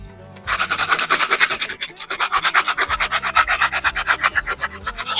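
Sandpaper rubs back and forth over a surface to remove grit during house painting prep, a close, rhythmic series of rasping strokes repeating about every half second.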